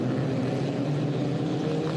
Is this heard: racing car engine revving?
yes